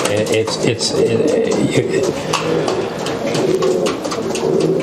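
A close, steady chorus of racing pigeons cooing inside a loft, throaty rolling calls overlapping with fluttering and shuffling, while someone talks over them.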